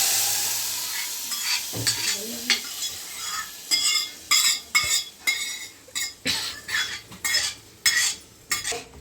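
Tamarind broth poured into a sizzling tempering for spinach pulusu, followed by repeated spoon-against-pan stirring strokes in an even rhythm over a soft background sizzle, close and clear.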